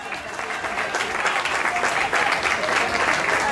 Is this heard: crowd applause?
yes